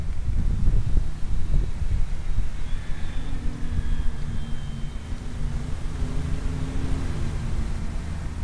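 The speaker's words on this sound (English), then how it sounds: "Boy, this wind." Strong outdoor wind buffeting the microphone as a loud, steady rumbling roar with gusty surges, while a faint whine of a model aircraft drifts in the distance.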